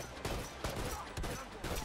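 Gunfire from The Last of Us multiplayer in a tournament match comes as a short series of rapid shot bursts, with a voice partly audible underneath.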